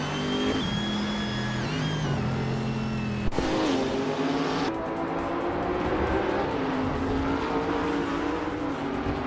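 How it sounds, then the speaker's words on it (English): A 2016 Ford GT-LM GT race car in a racing video game, its engine droning steadily with rising and falling pitch through gear changes and corners, close and continuous with no talking. "Amy is driving a 2016 Ford GT-L MGT and currently in 8th place."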